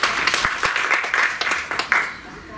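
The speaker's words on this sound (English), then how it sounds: "Hand of applause to Galit." An audience applauds a speaker in a classroom discussion setting, with a steady patter of hand claps over about two and a half seconds and a few sharper individual claps standing out.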